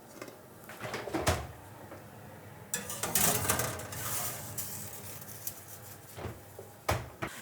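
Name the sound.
baking tray with dough put into the oven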